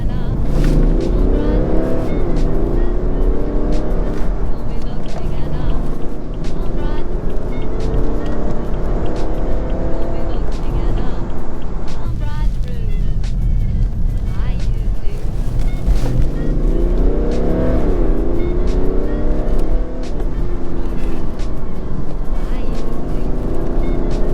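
BMW 430d M Sport Pack coupe with a 265 hp diesel engine accelerating in traffic, a steady loud engine drone rising and falling in pitch through the run, with wind noise throughout and someone talking over it.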